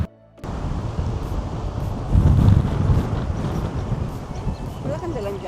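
Strong wind buffets the microphone on Princess Pier at a fishing spot, a loud continuous roaring rumble that swells midway and carries on steadily.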